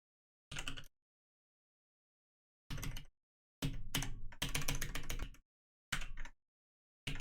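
Typing on a computer keyboard while coding: quick clusters of close, crisp key clicks in bursts separated by silent pauses, with no voices.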